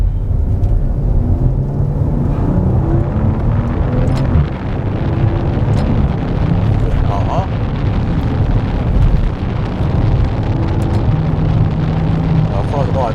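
A Maserati Levante GranLusso SUV pulls away and accelerates, its engine rumbling loud and close from inside the cabin under a steady wash of road and wind noise.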